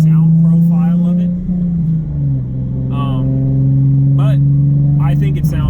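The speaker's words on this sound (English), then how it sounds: "It's got all the low tones that you definitely want out of an exhaust" Nissan 370Z fitted with a GReddy Evo GT exhaust pulls steadily under acceleration, a deep continuous low-pitched drone that shifts pitch slightly midway, with a voice talking over it throughout.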